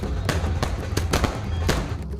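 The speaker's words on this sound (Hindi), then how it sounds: "तो कहीं सड़क पर पटाखे फूट रहे हैं" Firecrackers bursting on a street in Haridwar, Uttarakhand, during pre-election celebrations: several sharp, loud cracks at irregular intervals over a steady low rumble of crowd and traffic.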